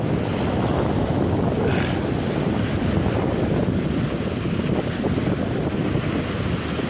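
Steady roar of sea waves and wind at a seashore right beside a room, broadband surf wash with gusty microphone wind noise throughout, loud and continuous with no voices.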